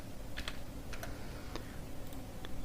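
Computer keyboard typing as a business name is entered into a web panel form, with a handful of quick, light key taps in an irregular rhythm over a steady low hum.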